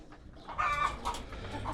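Chickens clucking in short bursts, fairly close, over a low steady background hum, with no talking.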